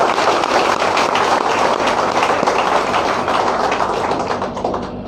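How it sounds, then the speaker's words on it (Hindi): An audience claps loudly and densely for several seconds, a steady close wash of hand claps that slowly eases toward the end. "इसीलिए जोरदार तालियां बजाएगा।"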